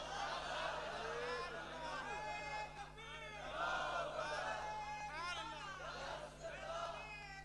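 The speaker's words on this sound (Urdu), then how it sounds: "نعرے کم لگاؤ، وقت کم ہے" A large crowd at a religious sermon raises chanted slogans together, a loud continuous wall of massed voices that swells and falls in waves, with shouted calls standing out above the mass.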